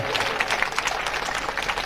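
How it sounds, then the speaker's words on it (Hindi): Audience clapping to welcome a tehsildar guest at a school annual function, a brief burst of steady, fairly quiet applause heard alone. "जोरदार तालियों से तहसीलदार जी का स्वागत"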